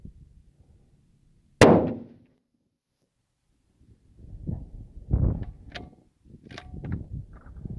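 A single rifle shot fired during load development shooting: one sharp, loud crack with a short decay, followed after a pause by scattered softer clanks and handling noises nearby.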